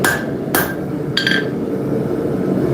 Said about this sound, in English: I have to use my hand hammer to straighten that out a little bit